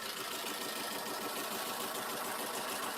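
A Honda VTEC engine with a broken motor mount runs steadily, a loud, continuous mechanical whir and rattle with no pauses, no voices over it.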